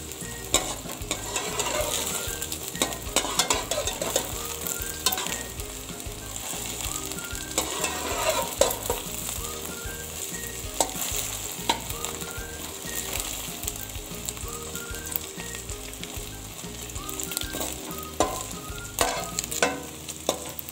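Egg fried rice is stir-fried over a high flame, a loud continuous sizzle broken by rapid scraping and clattering of the utensil against the pan, close and busy, with no talking.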